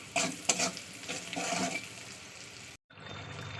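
Fish sizzling and being stirred in a pan with browned onion, turmeric and salt, a continuous frying hiss with scraping stirs near the start, briefly cutting out before the sizzle resumes.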